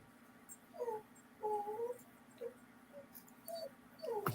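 A puppy lets out a string of soft, high whimpers and little yips in short bursts over a low steady hum, close by and fairly faint.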